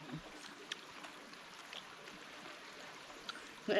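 A river stream flows steadily beside an outdoor eating spot in the province, a soft continuous watery hiss with faint trickles, fairly quiet, with a brief louder bump near the end.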